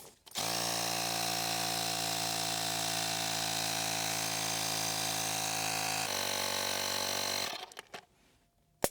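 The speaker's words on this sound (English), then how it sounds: "So I'm using my Ryobi cordless pump" Ryobi cordless tyre pump inflating a tyre, a loud steady whining motor hum that runs for about seven seconds, shifts pitch slightly partway, then stops, followed by a few faint clicks.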